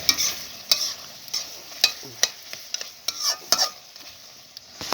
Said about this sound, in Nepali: चलाउँदै गर्नुपर्छ अहिले